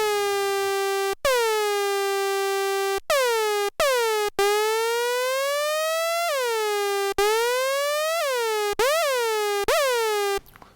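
Arturia MiniFreak synthesizer plays a bright, buzzy sustained tone whose pitch bends and swoops as the cycling envelope modulates it, with several retriggered notes and audible clicks between them, loud and alone.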